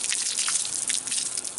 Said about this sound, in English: I'm going to go over there and turn on the water, and we're going to flush out the air